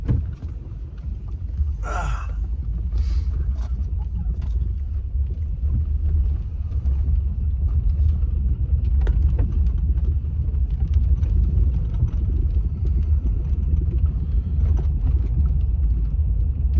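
A Toyota Tundra pickup engine running rough with a cylinder misfire, a steady low rumble with an uneven, skipping beat that continues for the whole stretch, close by with no talking.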